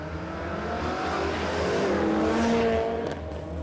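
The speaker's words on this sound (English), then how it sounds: "Sam Owen turned the tyres pretty hard there on the start line." Drag race car at Warwick Dragway launching off the start line with tyres spinning hard, a loud sustained engine roar climbing and holding steady, heard from trackside.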